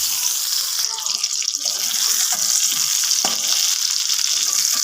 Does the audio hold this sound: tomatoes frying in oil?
yes